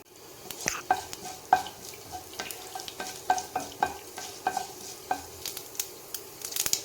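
Mustard seeds and urad dal splutter in a tablespoon of hot groundnut oil, giving sharp irregular pops and crackles over a soft frying hiss, close and moderately loud.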